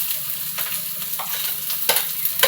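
Onion dropped into hot oil already browning garlic and green chili, giving a continuous close sizzle with a few sharp bursts of crackle as the pan is stirred.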